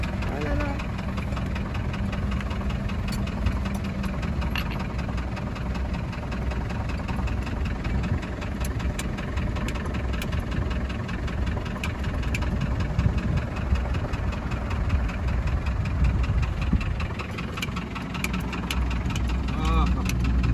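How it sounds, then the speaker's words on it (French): Truck approaching and passing along a dusty dirt road, a steady loud engine rumble with crunching gravel throughout, close by and continuous, with no clear pause. "il y a un camion qui arrive."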